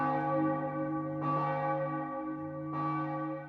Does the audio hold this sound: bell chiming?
yes